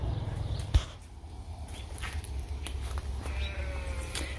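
Hungry sheep bleating on a farm in the morning, a few faint calls under steady outdoor background noise with one sharp knock early on.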